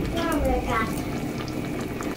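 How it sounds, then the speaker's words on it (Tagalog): Water pours into a pot of green peas with chicken cooking on the stove, giving a steady splashing and bubbling close by, partly under a speaking voice. "Magdagdag tayo ngayon ng tubig kasi marami"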